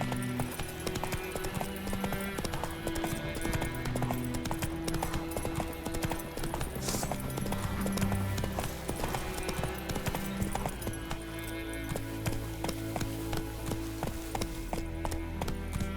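A horse gallops in The Witcher 3 video game, its hooves thudding in a steady, fast, continuous clip-clop under game music, loud and close.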